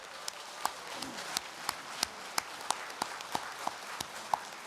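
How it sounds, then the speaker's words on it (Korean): Sparse, quiet applause at a Korean political seminar, as an audience claps for two members of parliament who have stayed to the end; individual hand claps land in a steady, thin rhythm. "이 두 분에게는 우리는 응원과 지지의 박수를"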